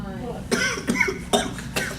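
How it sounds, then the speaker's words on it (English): A few short, sharp coughs in quick succession, close and clear, with bits of voice mixed in. "Why am I coughing?"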